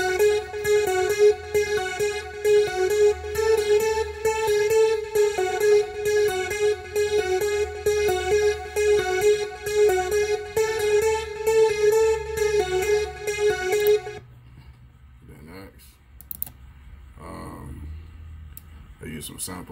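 A bright polyphonic synth preset from FL Studio plays a sustained chord part for the chorus of a trap soul/R&B beat, loud and steady for about fourteen seconds before cutting off into quiet, sparse sound.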